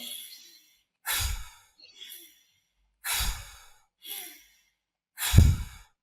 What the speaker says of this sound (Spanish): sería coger aire potente con la nariz, soltar con la boca